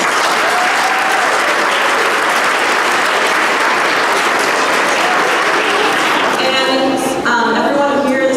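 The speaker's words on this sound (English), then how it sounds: "Give yourselves a round of applause." An audience applauds fifth grade dancers at a school dance program, with loud, dense, sustained clapping throughout and a few faint voices rising near the end.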